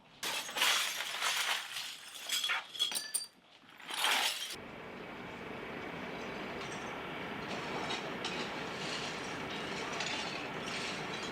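Glass shatters in a series of sharp, bright crashes and tinkling bursts over about four seconds, then gives way to a steady low rumble like a passing train, with no talking.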